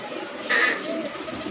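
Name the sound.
pigeons cooing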